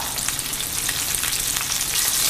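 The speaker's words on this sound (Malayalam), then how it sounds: "ഫ്ലെയിം വളരെ ലോയിലിട്ട് വേണം ഫ്രൈ ചെയ്തെടുക്കാൻ." Chicken fries in oil over a very low flame with a loud, close, steady crackle and tiny popping bursts throughout and no speech.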